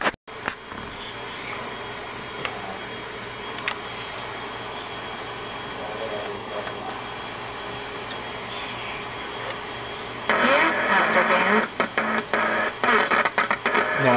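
A radio re-amplifying the signal from a homemade FM transmitter gives off a steady buzzing, static-laden hum that jumps noticeably louder and harsher partway through, with no one speaking.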